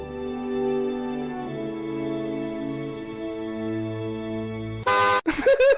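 A long, steady horn blast holds for several seconds, then a couple of short, sharp honks cut in right at the end.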